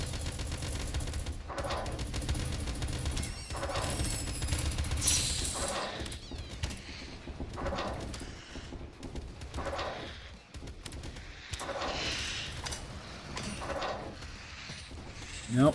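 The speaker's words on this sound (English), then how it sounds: "Oh, that's a machine gun, right?" Machine gun fire in the video game Doomtrain, repeated rattling bursts in uneven clusters with rumbling impacts, intermittent and at moderate level, with talk over parts of it.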